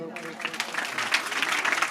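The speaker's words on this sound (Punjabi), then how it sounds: "ਇਹਦੇ ਲਈ ਵੀ ਤਾੜੀ ਲਾ ਦਿਓ" An audience at a Teeyan festival fair in a Punjabi village claps for a girl who has just sung boliyan, giving steady scattered applause heard from a moderate distance throughout.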